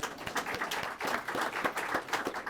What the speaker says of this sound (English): Yes, you can applaud him. You can applaud him.